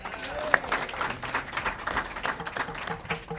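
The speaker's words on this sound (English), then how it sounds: "You get clapping like that when you go to Boston or anywhere else?" An audience at an awards event breaks into applause, a moderate, somewhat distant patter of clapping with crowd murmur mixed in, lasting a few seconds.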